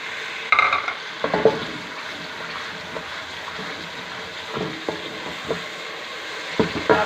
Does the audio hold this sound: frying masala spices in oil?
yes